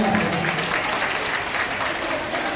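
Loud, dense applause from an audience cheering a singer at a stage event, a continuous close wash of clapping throughout.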